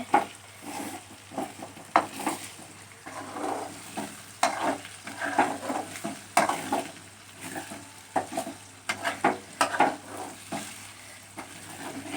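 Eggs frying and being stirred in a pan while making egg rice, a steady sizzle broken by frequent scraping and clinking of a utensil against the pan, fairly close, with no voices.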